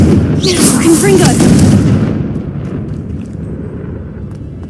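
Spell-blast explosions from the Confringo curse in the Hogwarts Legacy video game, a loud booming burst with crackling debris in the first two seconds that fades into a rumbling tail, with a voice speaking over it.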